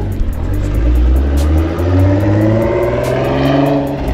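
A 2023 Nissan Z engine revs steadily with a low, throaty rumble, rising and falling slightly throughout, heard up close with no talking.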